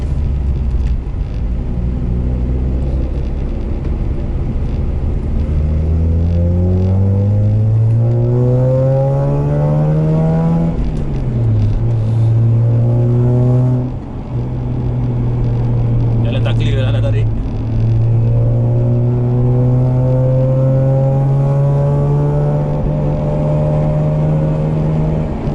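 A Mazda RX8 with a gearbox that is hard to shift, needing a double pump to get into gear, revs up through rising engine tones, dips briefly at each shift, then holds a loud steady drone close by.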